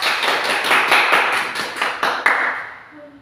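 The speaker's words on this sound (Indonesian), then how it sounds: "tepuk tangan, jadilah" A small group claps during an online training session on prompt engineering for content creation, roughly a dozen distinct, fairly close hand claps in a loose rhythm that thin out and stop near the end.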